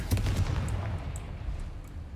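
A Confringo spell blast goes off in a video game as one loud burst, followed by a rumbling low tail that fades over about two seconds.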